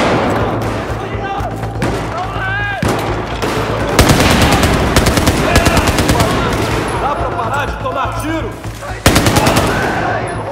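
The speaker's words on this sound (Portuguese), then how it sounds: "Tiro! Positivo, atirando!" Rapid machine-gun bursts in the video game Battlefield 4 rattle loudly in long sustained volleys, mixed with single shots and thuds, with shouting voices in between.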